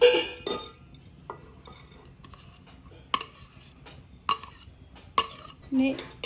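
Metal utensils clink and scrape against a pressure cooker in short, scattered knocks as grated carrot goes into ghee, with soft sizzling between them and occasional quiet movement.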